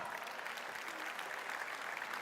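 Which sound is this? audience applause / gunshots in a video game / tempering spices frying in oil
audience applause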